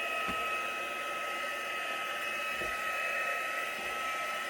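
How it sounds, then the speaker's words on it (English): A hair dryer blows steadily over a freshly painted acrylic agapanthus canvas, a continuous close whirring hiss with a whining motor tone that holds level throughout, with no talk. "or you can use a hair dryer, whatever you have."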